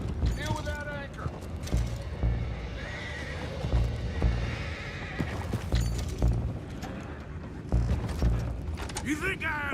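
Horses whinny and neigh repeatedly over clip-clopping hooves in Red Dead Redemption, with game sound effects, creaking and someone talking in the background.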